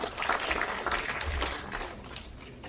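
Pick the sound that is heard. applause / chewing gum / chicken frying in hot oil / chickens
applause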